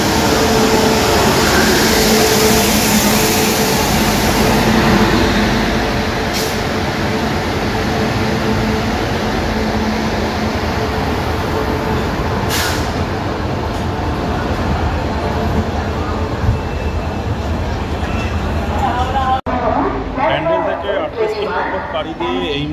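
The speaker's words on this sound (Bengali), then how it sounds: "আমাদের ট্রেন ঢুকছে" A train hauled by a WAP7 electric locomotive rolls into a station, a loud sustained rumble and roar filling most of the stretch before dropping away near the end as voices come through.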